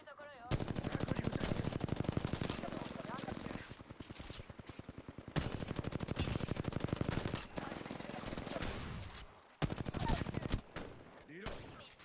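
Sustained automatic gunfire in the Apex Legends battle royale game, with long rapid bursts of shots that are loud and close, broken by short pauses and reload gaps.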